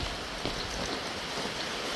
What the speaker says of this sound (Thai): ฝนตกเดือนมีนา